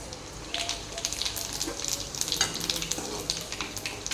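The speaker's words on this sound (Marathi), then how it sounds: "एवढं तेल गरम करून घेतलेलं आहे आणि यामध्ये मी आता जिरं मोहरी घालत आहे" Cumin and mustard seeds crackle in hot oil for a Marathi vegetable dish, a near, moderately loud sizzle with popping and faint stirring and no speech.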